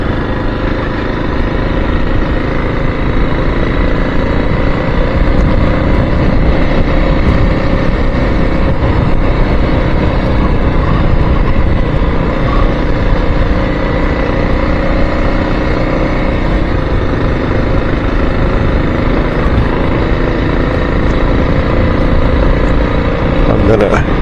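Continuous engine drone of a motorcycle riding along a dirt two-track through the countryside, loud and close, with steady rumble and rough mechanical texture throughout.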